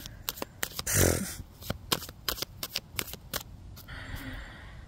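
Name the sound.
playing cards being shuffled back into the deck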